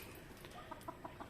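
Hens and roosters pecking at grain give a few soft, short clucks in quick succession, faint and somewhat distant over a low background hum.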